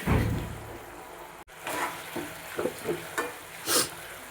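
A spoon works through tamarind rice mixture in a pan with tomato, tamarind juice and salt. The mixture sizzles softly while several close scraping and squelching strokes come in an uneven rhythm, with no talking.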